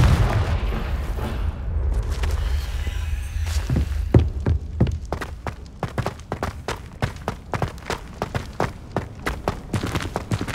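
Spell blasts in the Hogwarts Legacy video game: a low rumbling boom at first, then a long run of sharp, evenly spaced bursts crackling close and loud, with no talk.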